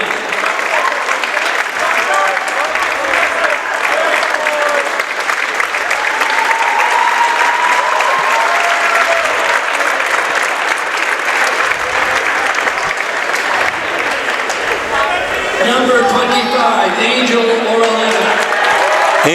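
Sustained applause from a crowd at a high school boys' varsity basketball game in Portland, loud and dense clapping that swells near the end, with an announcer's voice faintly underneath.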